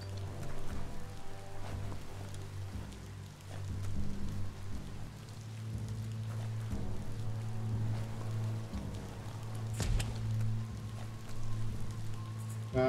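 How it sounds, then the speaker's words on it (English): Steady rainfall in the video game Biomutant patters continuously for several seconds over a low, constant hum, with no voices. "The rain can't last forever"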